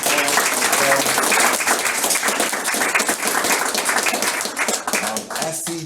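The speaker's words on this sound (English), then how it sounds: "let's give her a round of applause" An evening audience at a community DEI talk bursts into dense, loud applause that runs steadily for several seconds before tapering slightly at the end.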